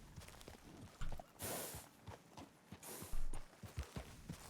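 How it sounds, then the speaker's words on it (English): An American Paint horse in a western roleplay video game clip-clops along at a walking pace in open country, its hoofbeats moderately close and steady. "Why is there a horse in the middle of nowhere there?"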